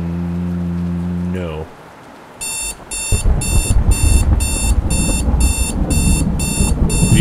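An alarm clock in a horror video game beeps in a fast, regular series of loud, piercing bursts over rumbling background noise, following a short low tone.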